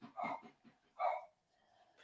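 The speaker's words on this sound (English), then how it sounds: "Dogs are back." A dog gives a few faint, muffled barks and yips in the background indoors, two short bursts with quiet gaps between, during a live football watchalong.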